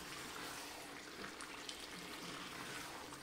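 Chicken handi cooking in oil, a steady close sizzle and frying crackle that holds evenly throughout without any talk.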